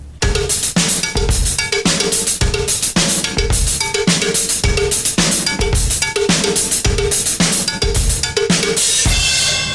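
Cowbell and hi-hat alternate in a brisk, loud pattern while a kick drum adds regular booming low thumps beneath, the full drum-kit groove repeating steadily for about ten seconds with no speech.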